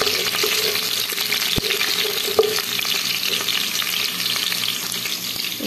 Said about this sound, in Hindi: तो अब मैं इसमें लहसुन डाल देती हूँ। बिस्मिल्लाहिर्रहमानिर्रहीम, लहसुन डालते हैं। तो लहसुन भी थोड़ा सा फ्राई हो जाए।